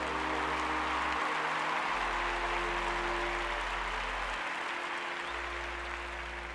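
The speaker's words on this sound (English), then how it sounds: "Oh, you can clap about that." A church congregation claps together during a worship service: a dense, even wash of applause that holds steady throughout, over a faint low hum, with no speech.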